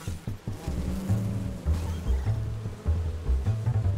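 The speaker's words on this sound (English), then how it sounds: "It's like bees or something." Swarm of bees buzzing inside the Fortnite video game, a loud, steady droning hum with wavering pitch that carries through the whole stretch without any speech.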